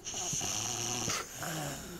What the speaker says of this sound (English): The snoring is brilliant.